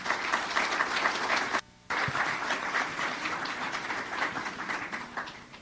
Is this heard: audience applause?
yes